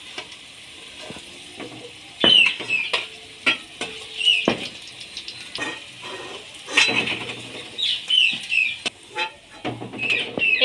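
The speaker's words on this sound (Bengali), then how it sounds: "এইভাবে আমি সবগুলো ভেজে নেব।" Pieces of cabbage and paneer fry in a pan with a continuous sizzle, punctuated by repeated utensil scrapes and metallic knocks as they are moved about and lifted out.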